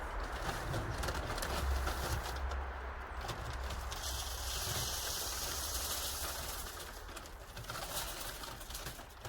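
Pigeons coo steadily through the clip over a low rumble of distant traffic, with no talking.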